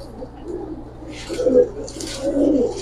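Giribaz pigeons coo in soft, throaty rolls, with several low coos rising and falling close by over a faint steady hum.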